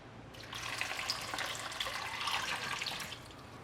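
A steady stream of water pours and splashes into a pot of lentils for sambar, a soft continuous gushing with no voices.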